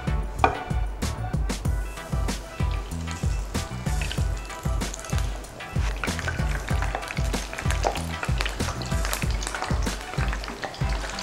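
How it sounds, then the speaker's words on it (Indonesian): Hot oil crackles and sizzles continuously as battered fish fries, with steady popping and spattering throughout. "kita langsung goreng ya"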